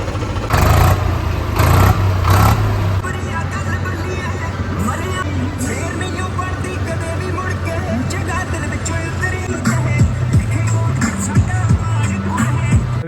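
A tractor engine rumbles steadily close by, its low chugging drone continuous while people talk and call out in the background.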